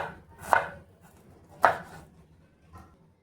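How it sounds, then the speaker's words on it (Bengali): A knife chops a piece of ginger on a board with two clear, sharp thuds about a second apart and a fainter third, close and otherwise quiet. "তো এক টুকরো আদা নিয়েছি, তো এটা একটু কেটে নেব।"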